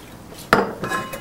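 Large stainless steel frying pan handled on a kitchen stovetop, giving one sharp metallic clank followed by lighter clinks and scraping, close and fairly loud with no talking.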